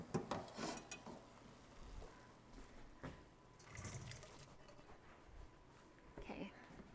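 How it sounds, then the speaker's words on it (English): Cooking water pours and splashes from a pot into a colander in a home kitchen sink while seven-layer dip is being made, running water noise rising in bursts under a speaking voice. "I'm going to get my colander and drain it"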